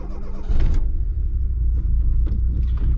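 A 1990 Fiat Uno Turbo Phase II engine cranks briefly, catches and settles into a steady, rumbling idle, close and continuous with no voices.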